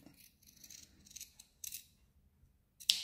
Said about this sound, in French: Je prends mes ciseaux et je coupe mon arrondi